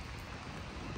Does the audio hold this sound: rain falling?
yes